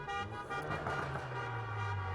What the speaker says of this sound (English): Honking horns, revving engines.